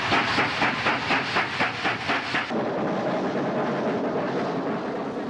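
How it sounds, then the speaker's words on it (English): Steam locomotive 3624 hauls a westbound goods train between Orange and Wellington in New South Wales. It gives loud, rhythmic exhaust chuffs at first, then a steady roaring hiss and rumble of the passing train. "Workstone 3624 hauls the westbound goods between Orange and Wellington."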